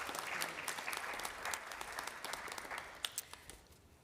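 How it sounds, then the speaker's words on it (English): Nursing graduates at a pinning ceremony applaud in a quiet, sustained patter of clapping from a modest group, tapering off to a few final claps. "Give yourselves a round of applause for being here."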